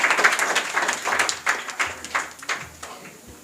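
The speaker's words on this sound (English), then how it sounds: "Clap for her." A small audience claps for a student speaker at an English academy's tenth-anniversary celebration, a brief burst of scattered hand claps close by that thins out and fades within a few seconds.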